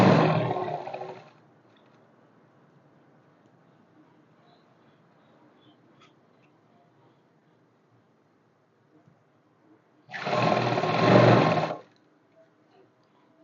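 A sewing machine runs straight stitching along a salwar belt up to the cut, in two loud bursts at the start and near the end with a quiet stretch between.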